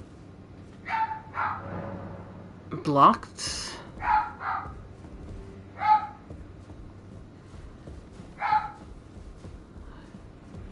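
Pet dog barking indoors, several sharp separate barks spread irregularly across the stretch, moderately close, with a voice talking between and over them.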